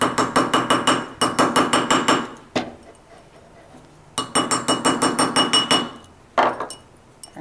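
Rapid bursts of metal-on-metal hammering as a stamped metal ring is shaped on a tapered steel mandrel, two long runs of close, ringing blows, each followed by a single louder strike and brief quiet.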